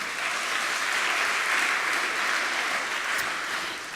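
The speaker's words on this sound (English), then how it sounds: "Round of applause for Alexandra." A university audience at the Waikato 3MT finals claps for the postgraduate office timekeeper, an even, sustained roar of applause from a large hall that tapers slightly at the end.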